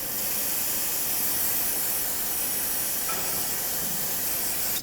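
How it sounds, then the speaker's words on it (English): Brake parts cleaner sprayed in one continuous, close, loud aerosol hiss over the front brake components of a 2012-2017 Toyota Camry, ending abruptly at the close. "Use brake parts cleaner, spray it down."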